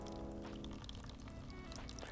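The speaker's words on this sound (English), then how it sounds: "just water from the top and allow that water to run straight through" Tap water pours from above into a potted Phalaenopsis orchid and runs straight through the pot, a continuous soft splashing trickle, close and quiet with no talking.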